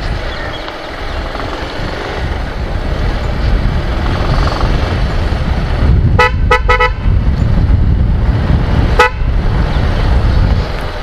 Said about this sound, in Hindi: मज़ा आ रहा है कि नहीं आ रहा है आप लोगों को ये हॉर्न सुन के